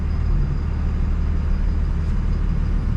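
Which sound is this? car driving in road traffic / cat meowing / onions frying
car driving in road traffic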